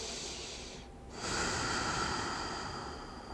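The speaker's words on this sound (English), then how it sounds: "Breathing easily in and out through your nose if possible." Steady breathing in and out through the nose during a yoga stretch, close and soft, with a slow airy exhale that swells and fades and a brief pause near the start.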